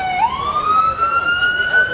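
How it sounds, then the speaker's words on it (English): An emergency vehicle siren on a Miami Beach street during spring break, a loud, near wail that rises steadily in pitch over a busy background. "Okay, we got sirens."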